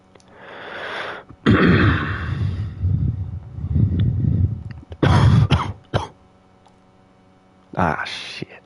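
Several sharp coughing bursts from a person, loud and close, separated by short pauses, with some quieter talking between the fits.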